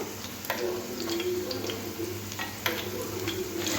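Crispy chicken balls frying in a pan, giving a steady, close, even sizzle with a few louder bursts of crackling.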